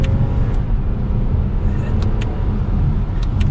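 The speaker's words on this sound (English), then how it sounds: "Popping it back into sport, taking this sharp right, giving it some gas." A 2022 Lexus ES350 sedan pulls away in sport mode through a sharp right turn, its engine and road noise forming a loud, steady low rumble with a few light clicks and no voices.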